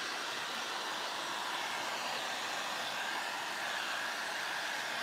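A hair dryer or heat tool blows steadily over fresh paint on a plastic dollar store picture frame, a loud continuous whooshing roar that holds without a break.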